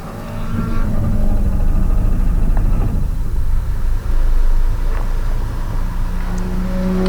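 A Volkswagen GTI's engine restarts at a race track after breaking down, a loud close rumbling drone with a slightly uneven texture that holds steady for about seven seconds.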